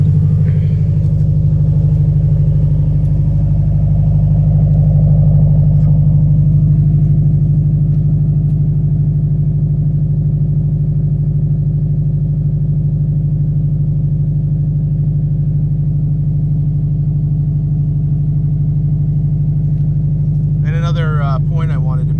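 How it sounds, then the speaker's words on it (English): A Subaru WRX with a swapped EJ20X engine idles with a deep, steady exhaust burble, a loud low drone holding constant and unchanging throughout, with a brief voice near the end. "Let's see what the exhaust sounds like"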